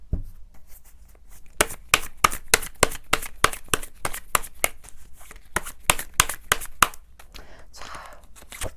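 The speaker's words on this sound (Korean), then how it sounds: "하반기에 월별 카드 뽑아봐야겠죠?" Tarot cards being shuffled and drawn, a fast run of sharp riffling clicks and slaps in a steady rhythm for several seconds, close and clear with no talking, then a softer rustle as cards are laid out.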